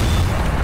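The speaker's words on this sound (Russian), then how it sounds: "Ну что, Серега, решающий выстрел." A shot explodes in Garry's Mod, a dense low boom that rolls on steadily for under a second, loud and close with no talk over it.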